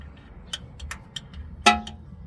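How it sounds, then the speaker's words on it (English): A few small metallic ticks and taps, then a sharper clank of a magnet striking a steel plate at the bottom of an engine intake, heard close against a quiet background. "the sound that magnet made hitting that steel plate at the bottom of the intake"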